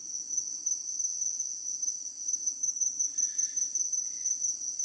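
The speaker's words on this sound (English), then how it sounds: "Stop and listen to the sound of the rainforest, and you'll soon realise you're not alone." Tropical rainforest ambience dominated by a dense, steady chorus of crickets and other insects, a continuous shrill drone that stays even throughout, with a faint low rustle underneath and no voices.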